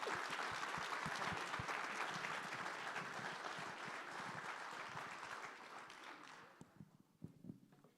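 Sustained clapping from a dinner audience at a soybean awards event, dense and even, gradually thinning out toward the end into a few scattered claps.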